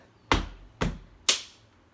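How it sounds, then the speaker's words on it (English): Three sharp, evenly spaced stamps and claps ring out in a drama class name game, each a loud, crisp hit followed by a short decay in a quiet room. "we do stamp your feet, clap, I say my name, you echo"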